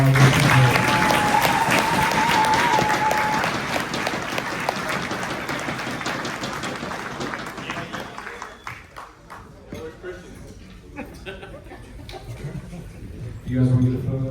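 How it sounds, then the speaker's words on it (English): Audience applause at a high school baseball banquet, a steady wash of clapping through the first half, then thinning into scattered claps and room murmur, with voices talking underneath. "a big round of applause for our"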